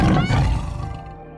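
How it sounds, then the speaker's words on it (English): A tiger roar, loud and close, rumbling throughout the brief clip and fading slightly toward the end, with no talk over it. "the tiger,"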